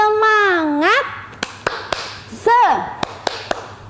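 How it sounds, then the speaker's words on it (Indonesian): Children perform the rhythmic spirit clap (tepuk semangat): sung, gliding voices mixed with sharp, evenly spaced claps in a patterned sequence, close and clear. "Tepuk semangat."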